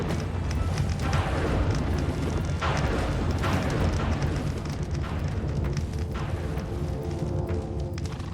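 Crackling thunder from lightning sparks in a horse riding video game: a continuous loud rumbling roar with scattered sharp crackles running throughout, dense and steady, with no voices.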